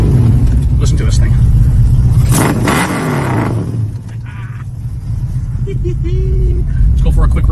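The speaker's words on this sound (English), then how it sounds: "Let's fire this up. I want you guys to hear it really fast. It does sound really, really good." A muscle car with dual exhaust starts up and idles with a deep, loud rumble and a brief rev, while someone talks over it close by.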